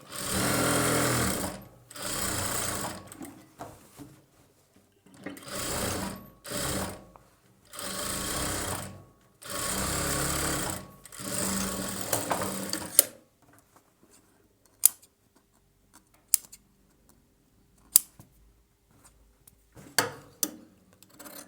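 A sewing machine stitches a boat neck blouse in several fast whirring runs separated by pauses, followed by sparse clicks and taps as the fabric is handled, close and clear with no talking.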